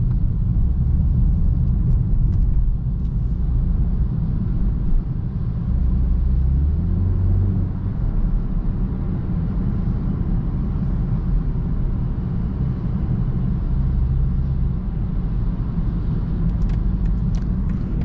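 A 2021 BMW 330i xDrive engine in sport mode rumbles steadily and loudly from inside the cabin, a deep continuous drone that rises and falls slightly over time.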